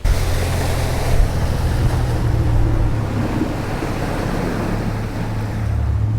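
A boat's big outboard motor runs at speed across a shallow winter bayou, a steady low drone blended with rushing water and wind buffeting the microphone, no voices.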